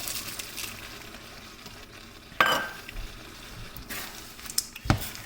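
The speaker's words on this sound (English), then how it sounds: "Let's get our peas in there as well." Peas and vegetables go into a pot of beef goulash and are stirred, giving soft squishing and scraping with a low simmering sizzle underneath, punctuated by a few sharper clanks of a spoon against the pot.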